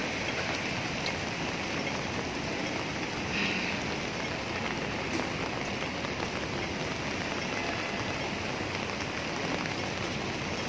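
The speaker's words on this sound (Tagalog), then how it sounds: "Lakas ng ulan, sobra." Heavy typhoon rain pours steadily outdoors near a traffic light in Subic, a dense, continuous roar of drops on wet surfaces with no talk over it.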